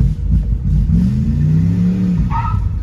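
A 1979 Chrysler Cordoba engine revs loudly just after being restarted, its low rumble rising and falling in one sustained rev with rattly clatter, close by and without talk.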